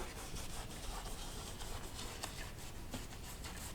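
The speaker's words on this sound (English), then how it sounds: "And you can just scrub this in any old way." Paintbrush scrubbing phthalo blue paint onto a landscape painting in crisscross strokes, a soft continuous bristly rubbing with quick repeated scratchy strokes, close and quiet, no talking.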